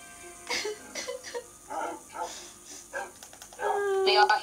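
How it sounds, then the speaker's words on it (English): Several dogs barking and yipping at a gathering, short separate barks spaced out and then a higher whining yelp at the end, close by and mixed with people talking. "We are here today with all of our dogs right around, sitting down, and Mr. Sheep."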